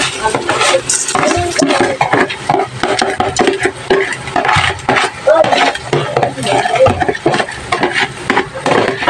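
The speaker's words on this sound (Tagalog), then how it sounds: "ilagay na natin itong bigas" Uncooked rice tipped into a cooking pot for arroz caldo, a steady clatter and rustle of grains against metal with stirring and pan scrapes, close and fairly loud, no talk.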